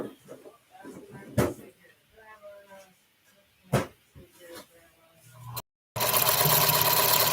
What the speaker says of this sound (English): I will just finish sewing this